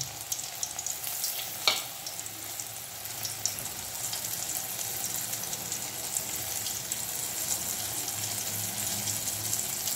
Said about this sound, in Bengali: ফ্রাই করব। এভাবে করলে পরে ক্রিস্পি হবে।